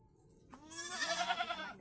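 A goat gives a single wavering bleat, close and fairly loud, rising after a brief quiet start.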